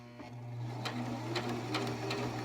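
A sewing machine runs close by, stitching a face mask seam in a steady quiet whir with a few faint clicks.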